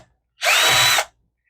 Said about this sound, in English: Let's get some of these screws out.